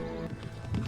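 Horse hooves clip-clop in a fantasy TV drama, a short steady patter of several hoof beats with faint whinny-like tones, heard under background score and some room noise.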